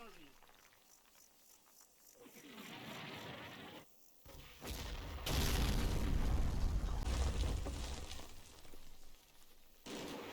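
Artillery explosions in the Combat Mission video game during the Monte Cassino gorge battle. A low rumbling blast swells and rolls for several seconds after quieter ambient chirping, with a sharper burst near the end.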